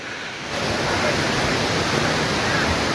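A rushing river stream on the trail to Curug Cisadane waterfall near Bogor, heard as a steady, loud, broadband wash of flowing water that swells in after a brief quieter half-second and holds.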